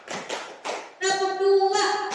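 Hand claps in a classroom clapping game, a few sharp taps spaced apart, followed by children's voices chanting over a sustained tonal sound.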